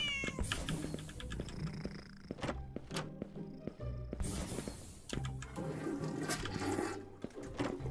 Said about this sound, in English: It goes mew mew and then roar.